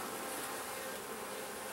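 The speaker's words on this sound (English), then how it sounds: "You see there's a lot of bees happening there" Dense, steady buzzing of many honey bees at an open hive during a beekeeping inspection, a close, continuous drone with no voices.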